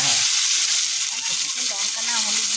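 Ginger and cumin paste frying in a pan for Bengali shukto, a steady bright sizzle and crackle that stays loud and continuous throughout.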